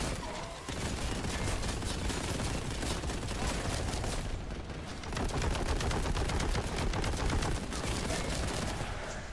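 Rapid gunfire in the retro shooter Boltgun, dense continuous bursts of shots hammering along for the whole stretch with only a brief lull, loud and close.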